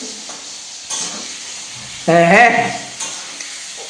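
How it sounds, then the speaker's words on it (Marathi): Brinjal tempered in hot oil gives a sudden loud sizzle that swells and fades over about a second, over a steady background hiss, with a brief spoken exclamation. "नुसती वांग्याला फोडणी दिली"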